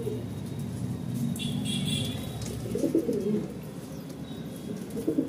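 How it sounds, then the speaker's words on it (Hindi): Soft, low cooing from pigeons nearby over steady outdoor background noise, with a few faint higher chirps. "ये देखिए हमारे कबूतर"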